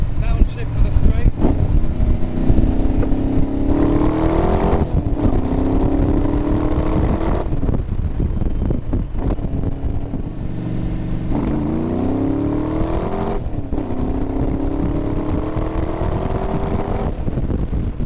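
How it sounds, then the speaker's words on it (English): A Cobra replica sports car on a parade lap at Castle Combe circuit, its loud, throaty V8 engine droning close up and climbing through the gears in repeated rising pulls, with brief pauses at each shift. "there was the parade lap around Castle Combe in the almighty Cobra replica"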